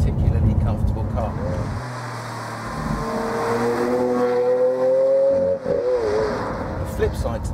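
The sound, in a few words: Lamborghini Aventador car driving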